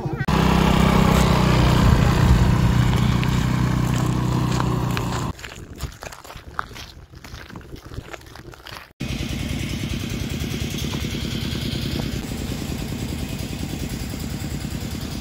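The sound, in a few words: motorcycle riding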